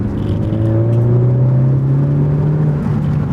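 A stock 2018 Ford Focus ST accelerates hard on a race track, its engine note climbing steadily in a loud, continuous whirring drone as the revs rise through the gear, close and unbroken.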